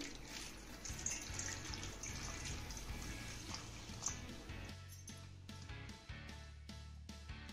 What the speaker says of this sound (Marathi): यात घालूया भरपूर असं पाणी.